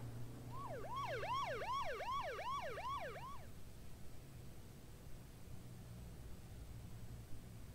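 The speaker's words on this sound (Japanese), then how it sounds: "パトカー来た" A police car siren in the video game H1Z1 rises and falls in quick repeated sweeps for a few seconds, then cuts off, leaving low engine-like rumble.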